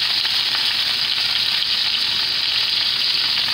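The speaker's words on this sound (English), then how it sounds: "we got our steak seared" Steak sears in a hot pan, producing a loud, dense, steady sizzle with a bright crackling hiss and no pauses or voices.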